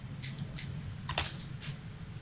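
Scissors snip fly-tying material while a simple popping fly is being tied, giving a few quick, faint, close cuts over low background hum, with no voices.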